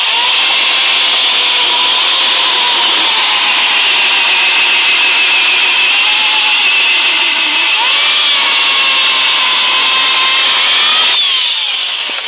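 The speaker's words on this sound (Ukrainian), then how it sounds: "Це теж дуб. Пилка так гризе прям." Close, loud electric saw cutting through oak firewood, a sustained grinding whine with slight pitch wobbles, running continuously before a brief change near the end.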